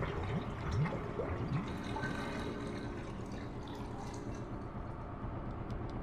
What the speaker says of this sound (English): Pull a dirty water plug.